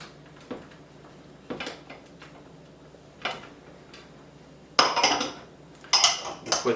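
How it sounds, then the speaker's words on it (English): Seasoned vegetables tossed in a bowl and placed onto a baking tray with potatoes, heard as scattered clinks, taps and scraping rattles of kitchenware, growing louder toward the end. "We'll toss this up, and I'm going to put that onto the tray with the potatoes."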